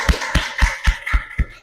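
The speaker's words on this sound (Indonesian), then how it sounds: "Tepuk tangan." A group of hands claps in a classroom, six sharp, evenly spaced claps ringing out close and loud with no talk over them.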